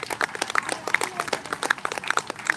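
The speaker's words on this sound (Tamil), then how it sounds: "அவருக்கு ஒரு கைதட்டு கொடுத்துடலாம் நினைக்கிறேன் சிறப்பான கைதட்டு கொடுங்க" Scattered, uneven hand clapping comes from a small audience at a children's summer arts and literature celebration, moderately faint, with a few claps standing out sharply and no talk.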